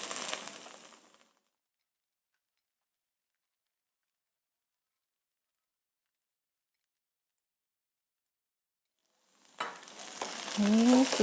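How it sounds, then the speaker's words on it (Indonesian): Goat meat frying and being stirred with spices for gule, a brief sizzle at the start that cuts to silence, then a louder sizzle with stirring scrapes returning near the end. "Ini kita aduk. Kita diamkan kita aduk ya, kita masak beberapa saat supaya bumbunya"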